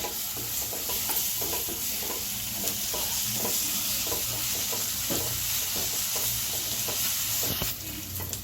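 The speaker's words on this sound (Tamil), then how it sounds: "இப்போ இஞ்சி பூண்டு போட்டுருங்க மட்டும் நல்லா வதக்கணும்" Ginger and garlic sauté with golden fried onions in a pan for mutton liver, a loud continuous sizzling hiss broken by rapid spatula scrapes and stirring clatters, close up and without voices.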